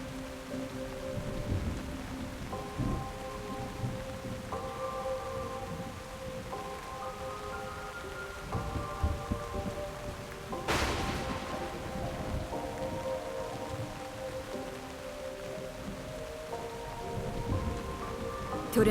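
Heavy rain pours steadily in a thunderstorm while thunder rumbles, with one sharp crack standing out midway, all under soft sustained musical tones.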